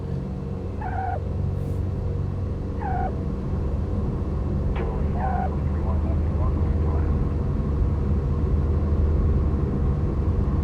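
Twin engines of a Beechcraft Baron 58 in X-Plane at full power on the takeoff roll, a steady loud droning hum with a constant low rumble, while a voice speaks briefly over it.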